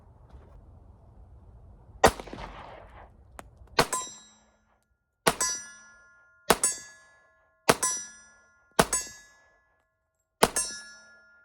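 Shots from a WW2 Remington Rand 1911 .45 ACP pistol striking a steel target, heard as six loud, evenly spaced ringing clangs, each with a short metallic decay, following some earlier rustling and a single sharp report.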